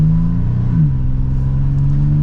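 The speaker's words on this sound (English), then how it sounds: "that's half throttle, and that's flooring it more and more" Engine of a 2023 Toyota 4Runner TRD Pro accelerating under throttle on the road, a loud steady low drone that rises in pitch partway through as the revs climb, heard from inside the cabin with no talking.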